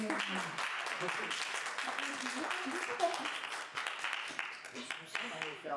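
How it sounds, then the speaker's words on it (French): Scattered audience clapping, fairly faint and uneven, runs under lively talk and voices throughout. "Est-ce qu'on a des applaudissements pour cette bonne chat?"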